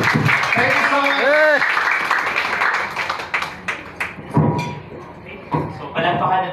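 Audience applause at a corporate business meeting, a burst of clapping followed by scattered claps and thumps, with a voice speaking over it.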